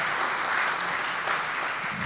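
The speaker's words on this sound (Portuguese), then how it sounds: "uma salva de palmas de tio Carlos" A crowd claps steadily in dense, continuous applause that lasts the whole moment.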